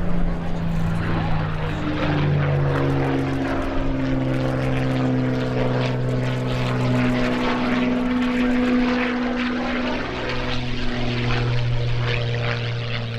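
A Second World War Spitfire fighter's propeller engine drones loud and steady through a flypast at an airshow, its pitch bending downward as it passes, with a voice heard faintly beneath.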